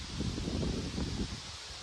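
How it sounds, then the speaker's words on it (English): Wind gusts in a garden rumble and buffet the microphone in low, uneven bursts, with a faint rustle on top and no other sounds. "It's also very windy today"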